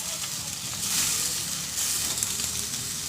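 Chow mein stir-fries in a wok, giving a constant bright hissing sizzle with faint clatter, close and fairly loud, with no voices.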